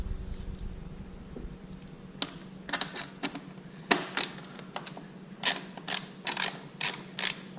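Small screws being tightened on the air intake of a 2007 Honda CBR1000RR motorcycle, a series of close, sharp clicks and creaks from the screwdriver and parts, irregular and increasing toward the end, with no talking.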